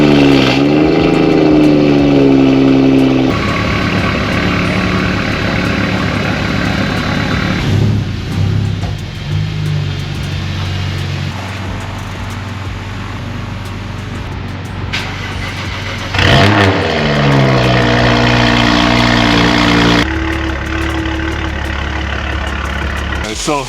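A BMW 535xi E60, recently fixed for a misfire, idles and revs in a workshop with a steady engine drone, rising in pitch at a few points, while people talk over it.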